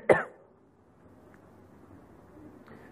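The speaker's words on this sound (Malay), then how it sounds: "Batuk ni." A single sharp cough or throat clearing at the start during a mosque lecture, close and loud, followed by quiet room tone.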